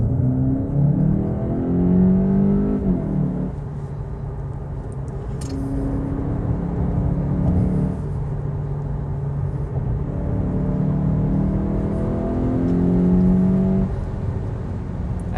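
A 2022 Volkswagen Golf 8 GTE accelerates up to speed on a fun road, its drivetrain rising in pitch through several climbs in steady, close cabin rumble.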